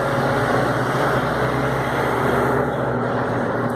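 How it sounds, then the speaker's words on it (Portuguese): A bus passing by outdoors, a loud steady engine rumble and road noise that holds close throughout without talk. "O barulho do ônibus aqui que chegou e saiu já."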